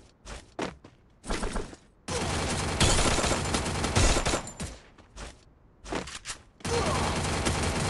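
Gunfire is exchanged in the mobile battle royale game Free Fire, with loud bursts of rapid automatic fire and single shots in several separate volleys. Some stretches are sustained and others are short, with brief gaps between them.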